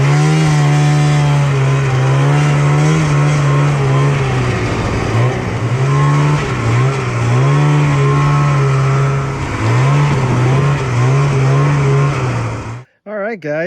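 A 1995 Polaris Indy Lite GT 340 snowmobile being ridden, its two-stroke engine droning loudly and close with a steady whine that dips and rises as the throttle changes, cutting out abruptly near the end.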